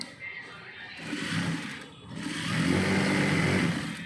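A sewing machine runs in steady bursts, stitching a seam on ready-made trousers, with a brief slowdown near the middle before it speeds up again. It sounds close and fairly loud.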